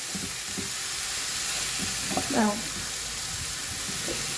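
Spring onion flowers frying in a pan on high flame, giving a steady, close sizzle throughout with a brief vocal sound partway through.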